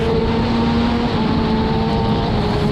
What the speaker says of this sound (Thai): เสียงท่อนี่อย่างชัดเจนเลยครับเสียงท่อเงียบมากนะทุกคน